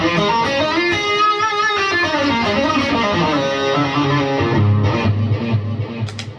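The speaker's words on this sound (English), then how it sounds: "only reverb, delay from the MS-3" Electric guitar on a clean classic amp channel with boost engaged and tube screamer off, run through a Boss MS-3 adding only reverb and delay, in a stereo Amp1 live rig; sustained chords and melodic lines ring out continuously with trailing echoes.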